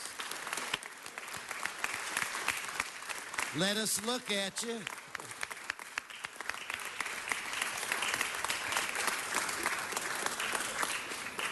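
Audience applause fills a city council meeting chamber, steady and dense for the whole stretch, with a brief spoken voice cutting through near the middle.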